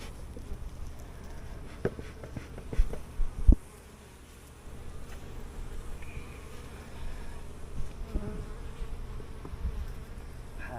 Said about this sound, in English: Plenty of bees in there.